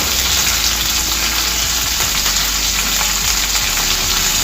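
Onion, carrot, curry leaves and green chillies frying in a pan for jowar upma, a loud continuous sizzle holding steady throughout, up close and without voices.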